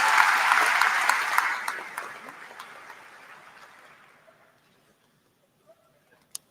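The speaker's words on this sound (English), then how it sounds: "About a big round of applause." Loud applause from a large crowd at a university commencement ceremony gradually fades out over several seconds, leaving near silence with a couple of faint clicks at the end.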